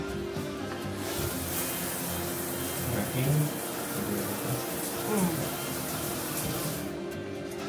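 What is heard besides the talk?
shower running in a bathroom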